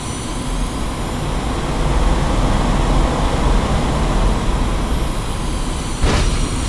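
Jet aircraft taxiing in the DCS flight simulator game, a loud, steady roaring engine whine with deep low rumble that holds constant throughout, plus a brief swelling whoosh near the end.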